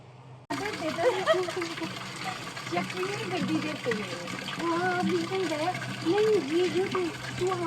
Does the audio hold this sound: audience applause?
no